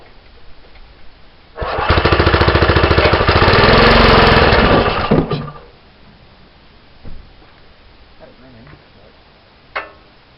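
A rebuilt Teagle C1 engine runs fast, a loud rapid-firing, rattling chug that starts abruptly, holds for about four seconds and then cuts out, leaving quiet background with a faint later knock.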